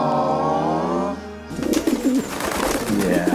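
Pigeon cooing in a comedy sketch, throaty warbling coos close up after a sustained musical tone cuts off, no talking.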